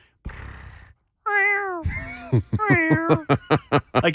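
Mimicking a complaining cat, a person produces a run of whiny, drawn-out meows that break into short rapid bursts toward the end, close and loud, with brief talk at the start.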